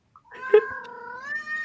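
A cat in a cat tree lets out one long, drawn-out meow, close and clear, that holds and wavers before rising slightly at the end.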